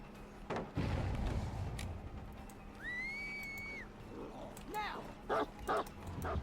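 The Houndmaster's dog in Dead by Daylight barks and yips in short bursts, with a whistle-like tone and whimpers, over game ambience and a person talking.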